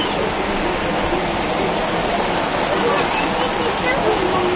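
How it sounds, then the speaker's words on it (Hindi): The season's first rain falls steadily with a constant, dense hiss of broad wash that holds at even loudness throughout, with no speech. "चालू हो गई बारिश।"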